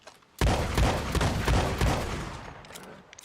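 A semi-automatic shotgun fires from the hip in the video game Red Dead Redemption 2, a rapid burst of loud, close blasts in quick succession with a ringing tail fading out at the end.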